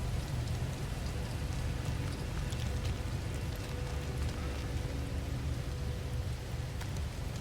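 Steady, dense rainstorm from the video game No Man's Sky, a continuous hiss of heavy rain with a deep rumbling low end, evenly loud throughout with no voices.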